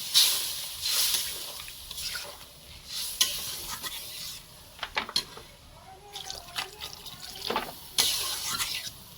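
Cooking in a pot for a shrimp and green jackfruit curry, with steady sizzling overlaid by bursts of stirring and splashing liquid, uneven and close, with no clear talking.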